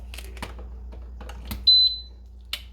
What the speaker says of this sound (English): Now hold on, it's gonna beep really loud.